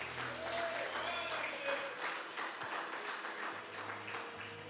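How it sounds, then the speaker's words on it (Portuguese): A church congregation claps along during a Sunday service, a quiet, steady patter of many hands under sustained tones and a voice speaking over it. "Aplauda com muita alegria"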